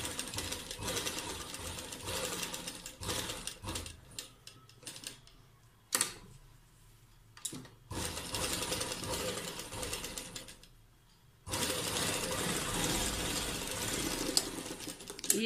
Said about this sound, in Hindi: ये हाफ गले में अब सिलाई लग चुकी है